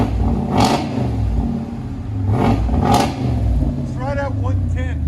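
A RAM Power Wagon with a 6.4L Hemi revs hard through a Dynomax exhaust in three deep, loud surges that swell and fall back, ending in faint chirping squeaks as the engine settles.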